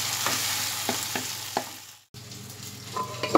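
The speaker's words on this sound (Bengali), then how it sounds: "টমেটোটা দেওয়ার পর আমি আরেকটু ফ্রাই করে নেব" Chopped tomato frying in a pan for dhaba-style dal, a steady close sizzle with periodic stirring scrapes, briefly cut to silence before the frying resumes.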